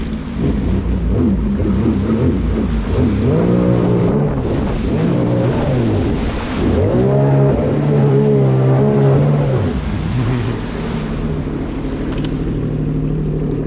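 A Sea-Doo Spark jet ski fitted with a Solas 12/14 impeller and a stainless steel wear ring revs hard in repeated rising and falling bursts during a wheelie attempt, loud and close with wind buffeting.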